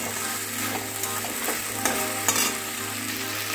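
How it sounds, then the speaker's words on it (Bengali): Spice masala for a vegetarian soybean and potato curry is stir-fried in a pan, a continuous close sizzle broken by soft scraping strokes of the spoon. "আর একটু আমি মশলাটাকে কষবো।"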